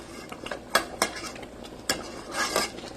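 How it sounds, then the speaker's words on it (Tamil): Fish curry with mango seed being stirred in a pot, then covered: a few sharp metallic clinks and scrapes of a spoon against the pot with a lid clatter near the end, close and fairly loud, no talking. "இது லைட்டாக ஒரு கிண்டு கிண்டிட்டு அப்படியே மூடி வச்சிட வேண்டியதான்"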